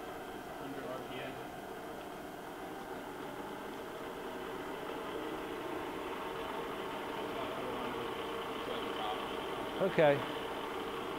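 A Proto-Trak CNC vertical mill, model Sport K4, runs with its spindle in low range, giving a steady, even mechanical hum throughout, with a brief clunk near the end and a short spoken word.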